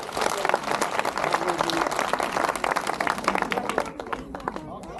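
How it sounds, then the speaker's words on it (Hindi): A church congregation breaks into loud clapping during a worship service, a dense burst of applause that thins out near the end. "जोरदार तालियां"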